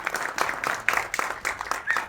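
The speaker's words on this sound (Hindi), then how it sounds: "जोरदार तालियों के साथ इनका स्वागत होना चाहिए" Audience applause welcoming two film actors onto the stage at a trailer launch event, a dense burst of clapping from a crowd that stays steady throughout, with no talk over it.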